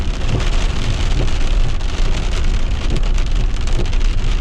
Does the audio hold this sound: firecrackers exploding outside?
no